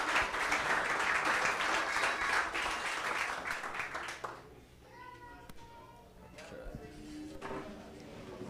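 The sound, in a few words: audience applause for the basketball players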